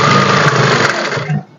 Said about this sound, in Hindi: इसके ऊपर सिलाई लगाएंगे कच्चा करने की